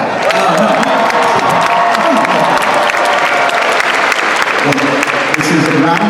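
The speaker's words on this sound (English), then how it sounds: "Clap for them now." Loud, sustained applause with cheering from a big crowd at a New York Comic Con 2022 panel for Weird: The Al Yankovic Story, dense clapping throughout with shouts and voices mixed in.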